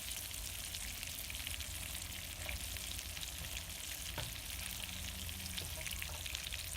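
Vegan plant-protein meatballs fry in a pan for spaghetti and meatballs, a steady close sizzle with crackling and occasional stirring or turning sounds and no voices.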